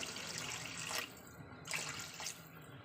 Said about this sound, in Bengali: চলুন একটু জল দিয়ে দিই একটু দিয়ে দিচ্ছি অল্প পরিমাণ জল